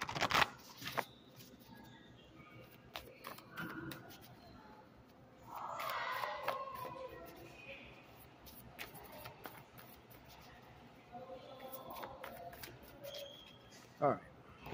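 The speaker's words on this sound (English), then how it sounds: "One more shuffle." Cards are riffled and shuffled in several quick bursts, close up, with soft talking in between and a final snap of the deck.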